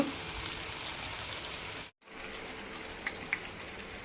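Potato-stuffed mirchi bajji fry in hot oil in a small kadai, a dense crackling sizzle like running water that cuts out briefly and then resumes a bit softer with scattered pops.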